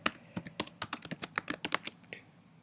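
Steady rapid typing on a computer keyboard, a close run of crisp clicking keystrokes that slows and fades near the end, with no voices.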